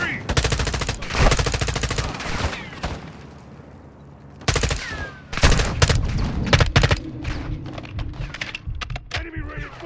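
Bursts of machine gun fire in Call of Duty: Modern Warfare II, loud rapid automatic volleys separated by short pauses, with voices speaking between and over the shots.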